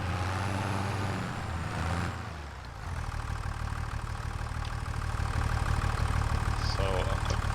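A tractor engine in Farming Simulator 25 idles steadily with a low, even drone after a brief dip in level, holding close and constant to the end.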